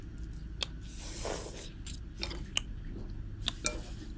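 Close, moist chewing and biting on pounded snail salad, with soft wet squishes and a few sharper crunchy clicks over steady low background noise, no talking.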